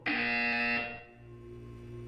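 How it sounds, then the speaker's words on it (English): Portal 2 video game buzzer: a single loud, harsh electronic buzz lasting under a second, then decaying into a softer lingering hum. "You will hear a buzzer."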